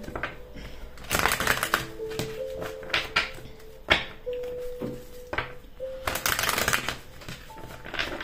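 Tarot cards shuffled by hand in bursts of papery riffling and tapping, loudest near the start and again toward the end, with soft steady background tones underneath.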